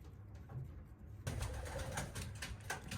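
White homing pigeons coo in a loft, low soft burbling calls close by that grow louder and fuller midway, without any voices.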